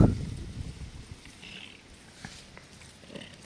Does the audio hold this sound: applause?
no